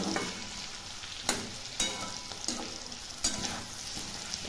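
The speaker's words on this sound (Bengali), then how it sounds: "আলুগুলো দিয়ে দিচ্ছি, একবারে ভেজে নেব" Four cut potatoes added to a pan and fried, giving a soft, steady sizzle broken by several sharp clinks and scrapes of stirring, while meat and rice cook nearby.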